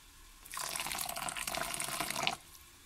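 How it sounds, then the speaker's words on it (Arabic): Broth poured from a pot over couscous, mixed with oil and seasonings in a home kitchen, a steady splashing liquid pour lasting about two seconds, close and fairly loud with no talking. "غادي نخوي المطايب هكا في الخلطه حتى نغطي الكسكسو"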